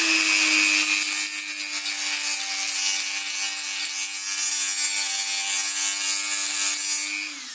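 Abrasive scraping roughs up the surface of a plastic bucket ahead of gluing, a loud, continuous rasping rub lasting several seconds with a steady tone underneath and no pauses, no voices.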